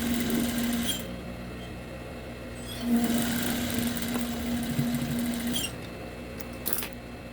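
Domestic sewing machine stitching chita print and raw cotton fabric, running in steady bursts with short pauses between them.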